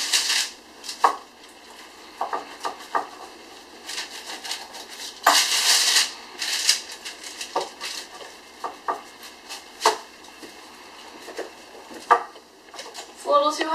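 A knife cuts through a whole wheat pizza on a cutting board, producing a series of close, irregular chops and scrapes with short pauses between strokes.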